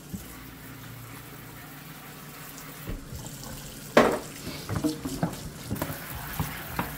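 Water runs from a kitchen tap while hands are rinsed after cooking noodles, a low steady splash with brief louder bursts and clatter as the flow is disturbed, close and moderately quiet.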